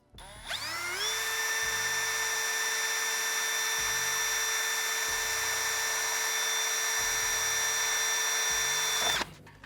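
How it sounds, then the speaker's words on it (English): A power drill bores a hole through a traction board mount, spinning up quickly and holding a loud steady whine with a strong tonal hum for several seconds before stopping abruptly. "it might be worthwhile to drill a hole right through there"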